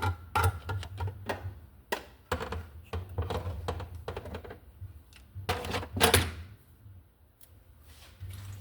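A can of evaporated milk is opened up close with a series of sharp, irregular metallic clicks and ticks that come in short bursts and then fade.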